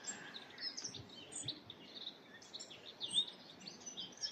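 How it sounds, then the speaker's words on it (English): Blackcaps sing in woodland, a faint, continuous stream of high chirps and warbled phrases drifting from some distance with no voices. "And there's black caps here now. There wasn't black caps here last week. They're all singing away."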